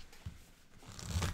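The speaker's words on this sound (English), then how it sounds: "Shuffle up, I guess." Cards being shuffled for the Pandemic Legacy board game, a quiet close riffle and rustle with soft papery bursts near the end.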